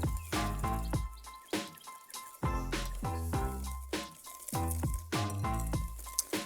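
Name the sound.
whisking ingredients for flourless chocolate cake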